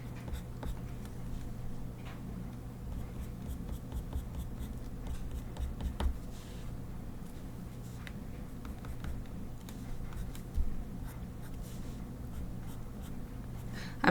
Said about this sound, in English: I've got to keep moving the pencil around and angling it so that I can keep getting the sharpest side